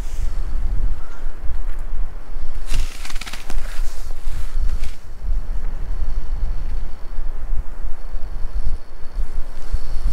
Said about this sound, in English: It's blowing steady between 10 and 15 miles an hour right now